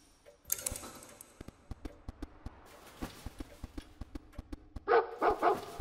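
A dog in Roblox barks in a short burst of several yips near the end, after a run of steady rhythmic ticking clicks, with no talk over it.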